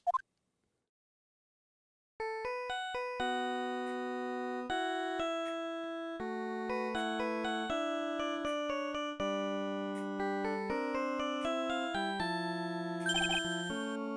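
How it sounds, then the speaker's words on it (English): A phone ringtone in the video game Phoenix Wright 3: Trials and Tribulations plays the character's theme as a bright, clean electronic melody of stepping notes, loud and alone after a brief opening blip and a pause. "Whoops. Sorry, that's my phone."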